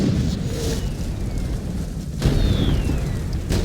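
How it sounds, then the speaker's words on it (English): Mortar bombardment during a siege in Medieval 2 Total War: heavy rumbling blasts and booming impacts over a dense battle din, with a sharp burst midway and whistling projectiles, loud and continuous. "The Venetians reply with their mortars"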